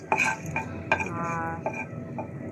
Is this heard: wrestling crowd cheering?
no